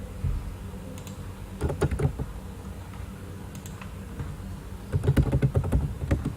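Typing on a computer keyboard, close and clear, in uneven bursts of quick clicks separated by short pauses, with no talk over the keystrokes.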